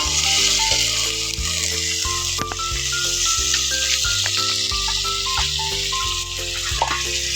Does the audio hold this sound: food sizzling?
yes